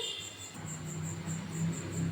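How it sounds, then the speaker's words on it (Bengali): Crickets chirp steadily in a fast, pulsing trill, fairly close and continuous, with a low hum beneath. "দেখছেন কি জোরে জোরে ঝিঝি পোকা ডাকছে"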